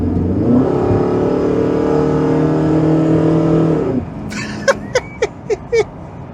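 A Ford AU Falcon XR8 V8 ute engine revs up loudly and holds a rising roar for about four seconds before cutting off, followed by a few sharp clicks or knocks.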